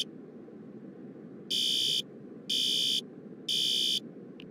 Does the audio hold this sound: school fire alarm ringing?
yes